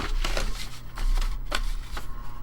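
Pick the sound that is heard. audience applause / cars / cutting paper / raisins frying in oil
cutting paper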